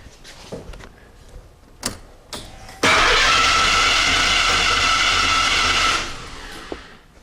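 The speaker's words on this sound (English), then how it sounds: "then we'll spin the engine over and see if we have a spark" A few clicks, then the starter of a 5.0L OHV Ford engine in a Fox-platform car whirs steadily for about three seconds before cutting off, loud and close, with no talking.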